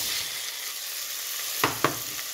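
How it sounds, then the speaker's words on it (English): Onions fry in a pan over medium-high heat, a continuous bright sizzle broken by two sharp spoon knocks against the pan near the end. "I'm going to fry these on medium to high heat, stirring it all the time till the onion gets soft"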